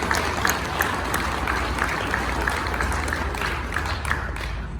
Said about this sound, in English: I'd like to have a round of applause for all of the Toys for Tots Ride Committee members.